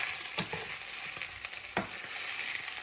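Chopped bacon fries in a pan with a steady, dense sizzle and a few soft scraping stirs, heard up close with no voices.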